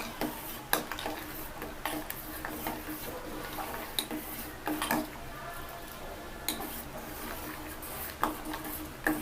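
A spoon stirs tempering into a pot of hotel-style rasam, giving quiet, irregular metallic clinks and scrapes against the pot over a soft low background.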